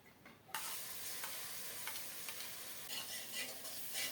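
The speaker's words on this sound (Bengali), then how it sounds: "নেড়ে চেড়ে পেঁয়াজটাকে একটু ভেজে নিচ্ছি" Onion paste being stirred and fried in mustard oil, a loud steady sizzle that starts abruptly and carries on with faint periodic scrapes of a spoon in the pan, close and without speech.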